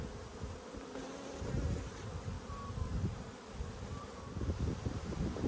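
Italian honey bees swarm around an open backyard hive, a dense, continuous low buzz close by, swelling and fading slightly as insects pass, with no voices.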